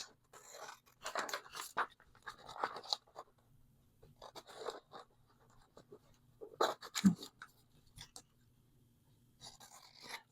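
Scissors snip through paper pieces for a junk journal in short, soft clusters of cuts with gaps between, close and quiet, with faint rustling of paper.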